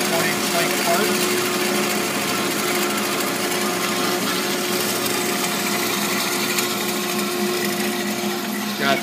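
An AMADA HA 250W automatic horizontal band saw from 1997 cutting off 1-inch length parts, giving a steady, continuous mechanical whine and hum with a sustained tonal drone throughout, fairly loud and close.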